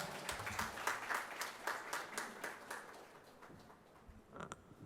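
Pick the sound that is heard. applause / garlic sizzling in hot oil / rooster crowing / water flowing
applause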